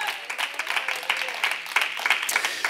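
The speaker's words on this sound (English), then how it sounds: "Give the Lord a hand clap of praise." A church congregation claps its hands in praise, a dense, steady patter of many hands at moderate volume that lasts throughout.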